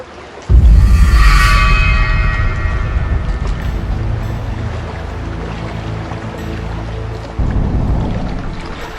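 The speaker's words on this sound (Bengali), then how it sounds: "এই গরমে পুকুরের ঠান্ডা জলে স্নান করতে কত ভালো লাগে।" Splashing in cool pond water while someone bathes, a loud broad rush of churning water that starts abruptly and continues steadily, then surges again near the end.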